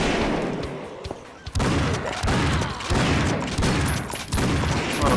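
Rapid bursts of gunfire in the Painkiller shooter game, loud and dense, with repeated heavy shots overlapping throughout and a brief dip before the barrage resumes.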